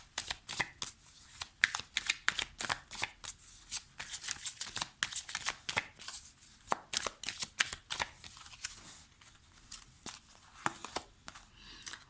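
Lenormand cards being shuffled by hand for a reading, a close, rapid series of crisp riffling and slapping bursts repeating throughout, with no talking.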